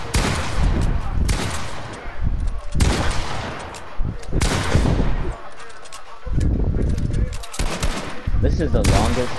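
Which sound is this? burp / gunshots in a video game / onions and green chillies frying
gunshots in a video game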